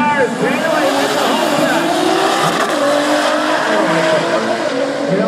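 A pair of black Nissan GT-Rs, a 2012 and a 2010, drag racing at an IDRC event in Norwalk: loud, close engines rev and accelerate with squealing tires while an announcer talks over the roar.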